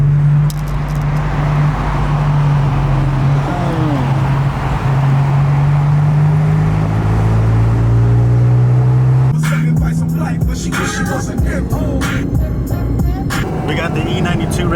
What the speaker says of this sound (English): Bro, it's early morning. Why is there all this traffic?